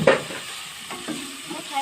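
Tomatoes and other ingredients being stirred in a frying pan for ginataang langka, with a sharp utensil scrape at the start and a few soft clinks over low background sizzle, close by with no talking.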